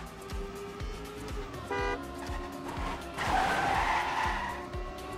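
Race car in the TrackMania game skidding with sharp tire squeals and a burst of scraping crash noise, over a rhythmic engine drone, moderately loud and without voices.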